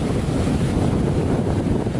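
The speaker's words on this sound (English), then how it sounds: "It's got a raging waterfall right there." A raging waterfall roars inside an old abandoned mine in Wales, a loud, dense, unbroken rush of falling water that fills the space with no one speaking.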